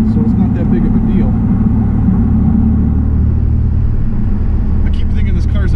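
A 2002 Pontiac Firebird with a V6 and five-speed manual cruises a 45 mph country road, giving a steady, loud engine and road rumble throughout, with someone talking over it.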